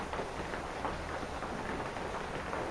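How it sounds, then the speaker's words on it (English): Rain drums steadily on the roof of a photography gallery in Ben Lomond, California, a soft, even patter that continues throughout without a break and with no talking. "that's rain falling on the roof of my gallery here in Ben Lomond, California"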